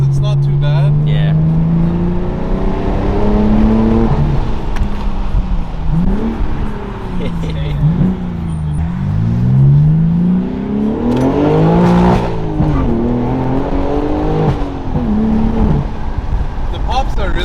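Straight-piped BMW M4 with the muffler cut off, its engine revving hard in loud repeated rising and falling sweeps with crackling exhaust pops, voices talking over the close, raw exhaust note.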